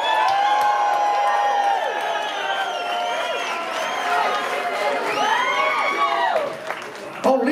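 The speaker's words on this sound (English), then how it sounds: "give them another round of applause" A live concert crowd cheers, whoops and applauds steadily for a band introduction, loud and dense throughout with shouts rising above the clapping.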